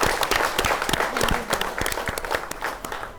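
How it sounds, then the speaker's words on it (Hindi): Applause from an audience after a Lavani dance at an awards grand finale, a few seconds of scattered, fairly sparse clapping at moderate distance, steady throughout. "जोरदार तालियां होनी चाहिए"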